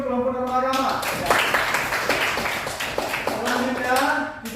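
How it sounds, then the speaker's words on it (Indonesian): A junior high classroom applauds a student group after its report on religious norms, many hands clapping in a dense burst that runs for several seconds as a teacher's voice carries over it. "tepuk tangan dulu untuk kelompok norma agama"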